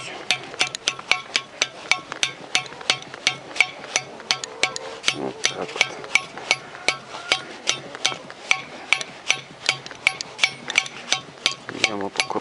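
Steady, rapid hammering: a piece of old floorboard strikes repeatedly in an even rhythm while a mini-tractor final drive gearbox is repaired, close and fairly loud, with no talk.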